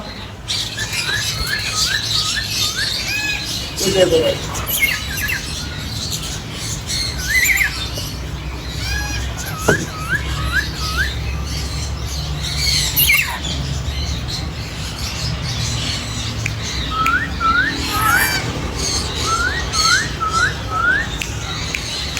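Parrots, including a large red-bellied macaw breeder pair and a ring-necked parakeet, squawk and whistle continuously inside a bird breeder's shop. Chirps, repeated whistled notes and harsh calls overlap over a steady low hum, close and fairly loud throughout.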